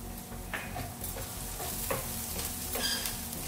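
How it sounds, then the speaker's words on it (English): Steady sizzling of onions frying in hot oil for biryani garnish, with a few soft clicks and stirring noises layered over the constant crackle. "I'm frying some onions to add as garnish on top of the biryani"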